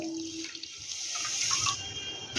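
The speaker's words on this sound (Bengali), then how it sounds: "এক কাপ চিনির পরিমাপ হিসাবে দেব এক কাপ জল" Water poured from a cup onto sugar in a wok while making palm-fruit pakon pitha, a steady splashing pour that runs for a couple of seconds at close range with no talking.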